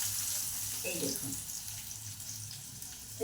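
Fish pieces frying in a pan, a steady close sizzle running throughout with a faint voice briefly underneath.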